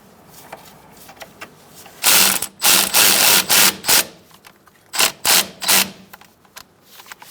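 A ratchet wrench on a 10 mm sensor bolt of a 2014-2018 Subaru Forester during front CV axle work gives loud, close bursts of rapid clicking. There are a few longer runs and then three shorter strokes.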